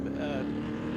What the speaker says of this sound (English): This car here is an old Commodore Cup car,